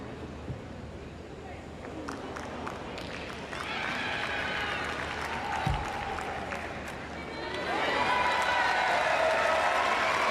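A boccia crowd at the Paris 2024 Paralympics breaks into applause and cheering that swells loudly after a brief thud, with commentators talking over the clapping.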